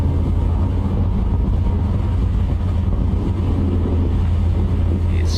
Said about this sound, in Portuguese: vamos embalar aqui, ultrapassar os limites de velocidades aqui, pra gente poder subir esse morro aí